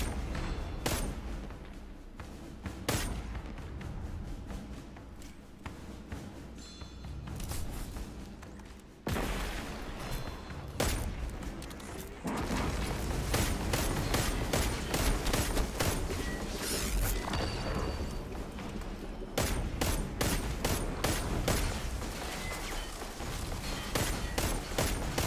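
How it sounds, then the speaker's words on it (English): Dense, continuous gunfire from a sci-fi shooter game, Destiny 2's Beyond Light campaign on Europa, with rapid sharp bursts layered over booming impacts and a steady roar throughout, loud and close. "I'm totally shooting his arm"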